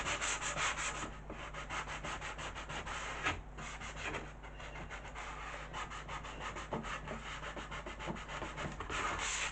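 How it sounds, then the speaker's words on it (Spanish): Wood being sanded by hand with sandpaper during furniture restoration, a quick steady rhythm of close rasping strokes continuing throughout without talk. "podréis hacerlo con lija en papel sin ningún problema"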